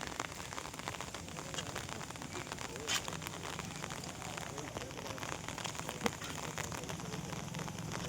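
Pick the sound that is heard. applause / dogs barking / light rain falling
light rain falling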